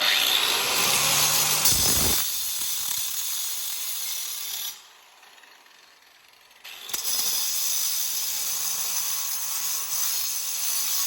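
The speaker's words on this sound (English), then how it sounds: "let's finish this up with a grinder" A grinder cutting through a golf cart charger for its copper, a loud harsh grinding whine that drops away for a couple of seconds into near silence, then starts up again just as loud and close, with no voices.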